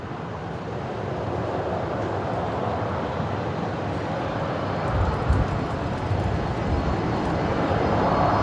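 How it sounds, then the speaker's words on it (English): Fokker airliner approaching Brisbane Airport: a steady, broad jet engine roar heard from a distance, holding level and swelling slightly toward the end, with no voices. "I'm going to flick around and get the Fokker coming in front of me."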